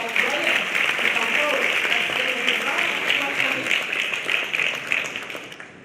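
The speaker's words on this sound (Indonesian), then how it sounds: "kita undang dengan tepuk tangan dulu" An audience claps in welcome at a gathering with Pope Francis, a sustained, fairly loud wash of applause that holds steady and then tapers off near the end, with some voices mixed in underneath.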